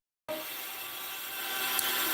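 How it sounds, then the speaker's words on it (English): Construction sawing runs steadily in the background, a continuous broadband rasp that starts abruptly and holds at moderate level, with a brief click near the end and no speech. "sorry for the distraction of the noise in the background. The construction is"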